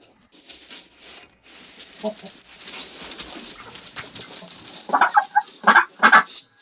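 Chickens cluck and squawk in a barn as they are herded toward a chicken coop, scattered soft calls building to a few louder, close bursts near the end, with faint background noise throughout.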